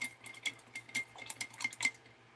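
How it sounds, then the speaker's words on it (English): Paintbrush tapping and clinking inside a dry pot, a quick run of close, bright clicks and rattles at an uneven pace, with no talk. "Oops, I'm washing it out in a dry pot."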